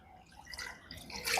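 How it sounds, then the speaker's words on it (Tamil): Water splashes and trickles into a pan of crab gravy during Jaffna-style cooking, a soft pour that swells louder toward the end, fairly quiet and without talk. "இன்னும் கொஞ்சம் தண்ணி சேர்ப்போம்."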